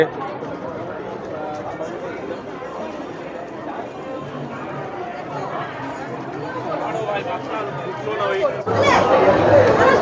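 Dense, steady crowd chatter among book stalls at the Kolkata Book Fair, many overlapping voices close and far, swelling louder near the end.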